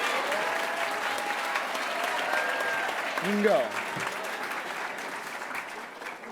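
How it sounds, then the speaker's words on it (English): Parents and students at a middle school awards night applaud in a full, continuous burst of clapping, while a brief voice and whoops cut through the middle before the applause begins to thin out. "please give them all one last round of applause"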